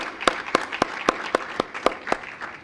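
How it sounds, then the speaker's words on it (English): A symposium audience claps in slow, evenly spaced single claps, about ten sharp beats in under three seconds, fairly close and distinct rather than a dense crowd roar. "I think we all deserve a round of applause for ourselves"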